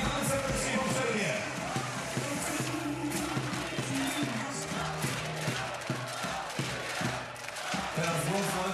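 Crowd at a beach volleyball Grand Slam semifinal in Olsztyn, a dense, loud roar of cheering and rhythmic chanting that stays sustained throughout, with voices rising and falling together.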